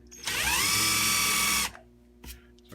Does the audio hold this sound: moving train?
no